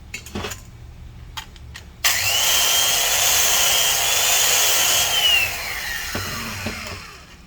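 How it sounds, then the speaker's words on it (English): A grinder dresses the valve seats on a Vortec 305 cylinder head. Its high, steady whine spins up abruptly, holds for a few seconds and then winds down, with light clicks of handling before and after. "I opted to grind these seats."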